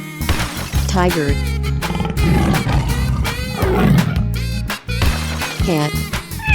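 A tiger roars in a 3D animal slide video game, loud and up close, the cry rising and falling several times over a steady backing beat of game music that continues throughout.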